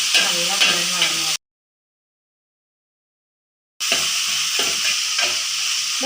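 Curry leaves and spices sauté in a hot pan, a steady sizzling hiss broken by clattering stirs, cutting out to silence for a couple of seconds midway before the frying resumes close and loud.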